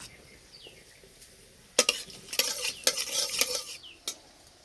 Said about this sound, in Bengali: তেলে দেবো 5 ফোড়ন শুকনো লঙ্কা,